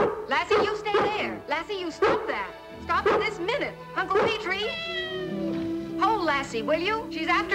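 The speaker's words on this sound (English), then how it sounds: "Well, Lassie chased the poor cat" A cat meows in an old television drama scene, with a short rising mew that comes through between close voices speaking over most of the moment.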